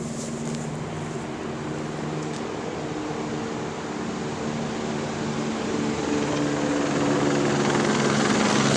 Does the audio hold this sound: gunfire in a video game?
no